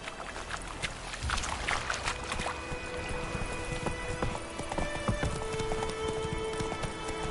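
Roach the horse galloping in The Witcher 3, a brisk run of close hoofbeats over game ambience with scattered tonal effects, no talk.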